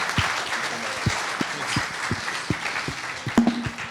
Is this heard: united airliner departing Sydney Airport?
no